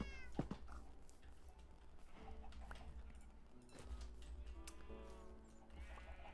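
Cats meowing in the Minecraft video game: several short game meows, some high and some lower, come and go over a steady low background hum, with faint clip-clop-like game sounds mixed in.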